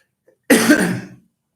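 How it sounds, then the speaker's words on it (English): One harsh, rough cough close by, lasting about half a second, following a brief faint breath. "Excuse the coughs."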